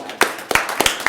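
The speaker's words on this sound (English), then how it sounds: "So please join me in giving her a round of applause." Audience clapping at a county board meeting, a few quick sharp claps in a short burst, close and fairly loud.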